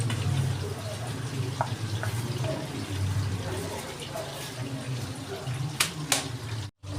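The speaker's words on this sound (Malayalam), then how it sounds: "കറി ഇപ്പൊ നല്ലോണം തിളച്ചിട്ടുണ്ട്" A prawn, jackfruit seed and drumstick curry bubbling in a pot, a steady low simmering burble with soft pops and a couple of sharp clicks near the end.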